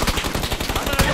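A dense, rapid burst of automatic gunfire crackles loudly and close in a PUBG match, with rapid-fire shots running together without a break.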